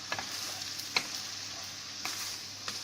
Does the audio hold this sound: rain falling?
no